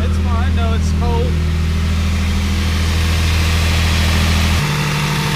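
A 4th-generation Toyota 4Runner engine idles high while cold, fitted with a fuel catalyst: a close, steady, loud droning hum that drops in pitch near the end, with faint chirps early on.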